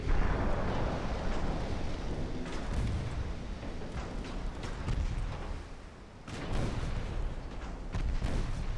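Warship guns fire in Ultimate Admiral: Dreadnoughts, a dense rumble of booming naval artillery with repeated blasts rolling over each other throughout, loud and continuous with a brief lull partway.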